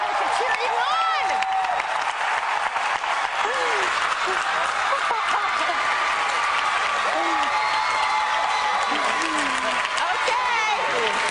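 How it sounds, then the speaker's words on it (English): A whole school crowd gathered in Bethlehem, Pennsylvania, cheers and applauds live for a contestant on The Biggest Loser, a dense, steady roar of clapping and shouting that holds loud and unbroken for the entire stretch. "Your entire school is gathered to cheer you on."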